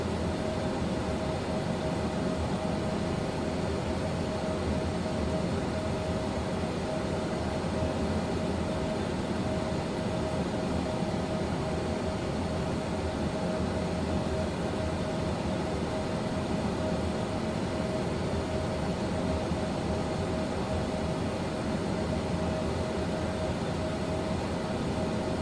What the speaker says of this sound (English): Plane sounds are a bit high.